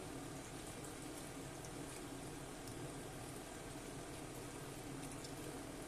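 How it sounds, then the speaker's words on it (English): Half a litre of water pours into a pan of chicken stew, a steady, soft, even rushing wash that holds for several seconds without talk. "next I'm going to add the water"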